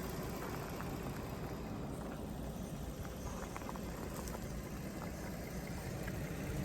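A camper van's engine idles at a mountain lake campsite, a low, even mechanical rumble that continues steadily and quietly throughout with no speech over it.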